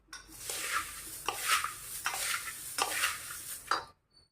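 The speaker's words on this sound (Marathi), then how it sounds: "हे सर्व जिन्नस आपल्याला छान एकत्र मिक्स करून घ्यायचे आहेत" Fasting-dish ingredients mixed together with a green chili tempering, a series of close scraping and clinking stirs against a bowl or pan, rhythmic bursts over a faint sizzle before stopping.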